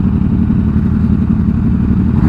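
A motorcycle engine roars loudly and steadily at close range, a dense, continuous drone with no pauses across the whole short stretch.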